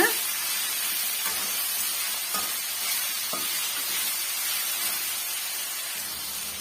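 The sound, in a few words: tomatoes sautéing with salt in a pan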